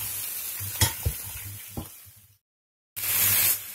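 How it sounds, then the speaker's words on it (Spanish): Monkfish bones sautéing in a pan, with a steady near sizzle, a few stirring knocks, then a short gap of silence before the sizzle returns loud and bright. "los huesos de rape, dos buenos huesos de rape, y lo rehogas un ratito"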